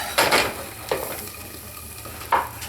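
Oil sizzles in a hot skillet while food is stirred, giving a steady frying hiss broken by a few louder scraping strokes of the spoon, close and with no talking.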